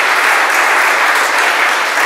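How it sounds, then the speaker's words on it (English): Dense, loud audience applause after a political candidates' debate event, continuous and even with no pause across the short stretch. "Round of applause."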